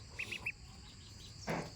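Ten-day-old ducklings on a farm give a few short, high peeps in a quick cluster, then a brief louder burst of calling after a pause, faint against a quiet background.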